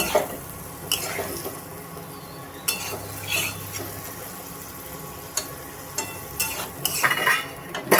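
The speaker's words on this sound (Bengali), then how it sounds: "এটা আলু পটলের সঙ্গে কষানো হোক" Potatoes and pointed gourd fry with spices in a pan, a steady low sizzle under repeated scraping and clinking strokes of a spatula, the stirring growing busier toward the end.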